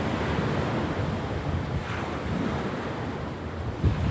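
Sea waves wash steadily onto a beach, a broad, constant roar of surf mixed with wind buffeting the microphone, with no voices.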